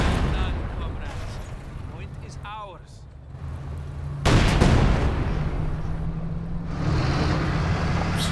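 Company of Heroes 2 battle: bursts of gunfire and heavy artillery blasts, one loud impact midway, over a continuous rumbling background with talk layered on top.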